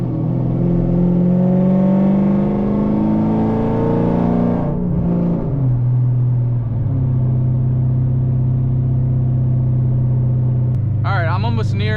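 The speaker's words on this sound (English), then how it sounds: "It was just straight exhaust note, deep exhaust note" An SRT8 Challenger fitted with an SLP Loudmouth exhaust accelerating, a loud, deep, rising exhaust drone that drops in pitch with a gear change partway through, heard from inside the car with a voice over it.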